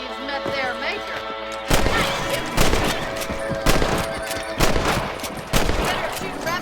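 Rifle shots aimed at rabbits in Red Dead Redemption, sharp loud cracks spaced about a second apart, each with a short echoing tail, over a steady outdoor ambience.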